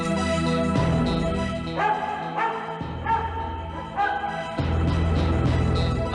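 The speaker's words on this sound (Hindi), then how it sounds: "कुत्ता भौंक रहा है" A dog barks several times in short bursts, fairly close, over a steady musical background with sustained tones.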